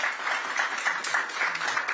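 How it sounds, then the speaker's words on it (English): Audience applause at a panel discussion on globalisation, fairly soft and even, a continuous patter of clapping heard from some distance. "ladies and gentlemen, big round of applause to both of them as well"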